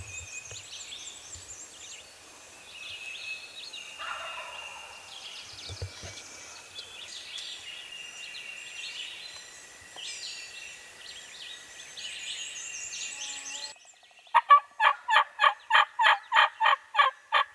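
A wild spring turkey gobbler calls from its roost at a distance, with faint rattling gobbles over a soft chorus of songbirds, then closer, sharper rhythmic clucks and gobble notes sound near the end.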